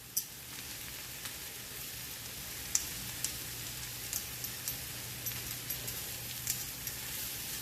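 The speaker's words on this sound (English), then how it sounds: "add the mushrooms to our caramelizing onions" Onions and mushrooms caramelizing together in a pan give off a soft, steady sizzle sprinkled with small scattered pops, faint and close, with no voices.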